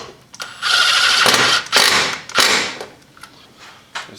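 A hand ratchet snugs up the two 8mm bolts holding the air duct on a 2010 Lincoln MKT. It gives several loud, close bursts of clicking and creaking with short pauses between strokes.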